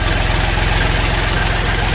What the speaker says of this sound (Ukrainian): ну як дуже класно звучить трактор